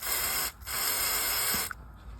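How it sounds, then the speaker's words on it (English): Two hissing bursts from an aerosol can of penetrating oil sprayed onto exhaust bolts under a 2001-2007 Chevy/GMC 6.6L Duramax, a long spray, a brief pause, then another long spray, close by with a faint click at the end. "I'm going to be spraying the hardware with penetrating oil just to get the bolts loose"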